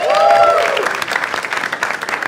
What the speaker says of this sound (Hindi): एक बार जोरदार ताली for Jaspreet bhai